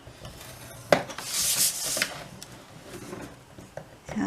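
Paper being scored for a junk journal makes a brief, close dry scraping rasp that rises and fades over about a second, set among small taps and handling noises.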